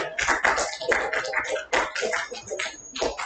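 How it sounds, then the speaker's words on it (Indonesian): A group of people claps together, a dense burst of applause with irregular sharp hand claps throughout. "Tepuk tangan buat kelompok."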